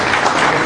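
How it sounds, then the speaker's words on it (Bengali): Brief burst of audience applause at an investment education event in Chattogram, dense clapping at steady loudness with no voices over it. "ওনার জন্য আবার একটা হাততালি।"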